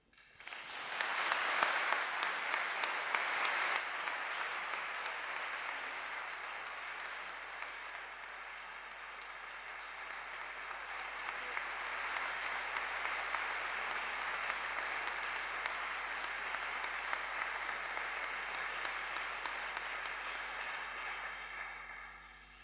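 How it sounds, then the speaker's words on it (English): Sustained audience applause after a speech at a climate change and women's advancement event, filling the room steadily for over twenty seconds with a dense, even clatter of many hands. "Please, another round of applause for the DSG."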